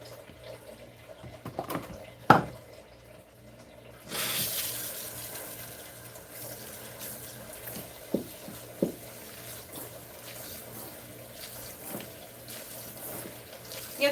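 Cold tap water runs steadily while a protein treatment is rinsed out of a grandmother's salt-and-pepper hair at a salon, a soft continuous flow with brief splashes and drips and a louder burst as the stream picks up.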